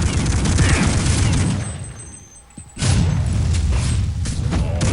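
Heavy weapon fire from a dragon cannon in Counter-Strike Online zombie mode: dense, loud booming blasts that drop away briefly mid-clip, then resume as a continuous roar of explosive fire.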